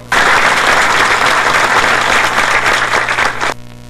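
A crowd of supporters applauds loudly and continuously at a welcome ceremony for a regional president at a local hall on an avenue, dense clapping filling the space before cutting off abruptly.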